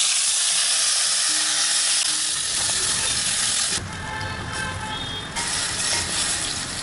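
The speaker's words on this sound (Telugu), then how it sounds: "ఇప్పుడు మన టమాటా వేసి వేయించుకోవాలి" Half a kilo of tomatoes frying in a pan, a loud continuous sizzle and hiss close up, dipping slightly midway as the pieces settle, then rising again.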